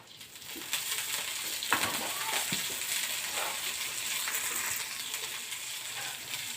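Oil sizzles in a hot pan as vegetables fry for an Uttara Karnataka style dish, a steady, close hiss with occasional crackles and stirring scrapes, no talking.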